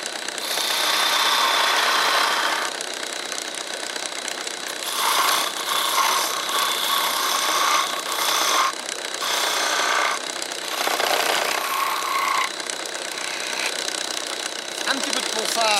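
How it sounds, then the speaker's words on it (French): Wood turning on a lathe at Castelnaud castle, worked with two gouges and a parting tool: a steady broadband whirring scrape that swells and eases as the tool bites, continuous and fairly loud throughout. "je travaille avec 2 gouges et un bédane"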